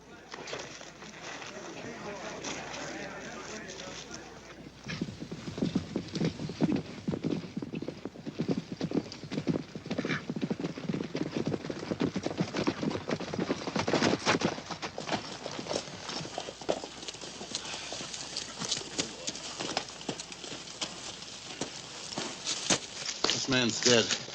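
Horses' hooves clip-clop across open Wyoming range in a 1950s Western, a dense run of hoof beats with an occasional whinny and speaking voices over the top.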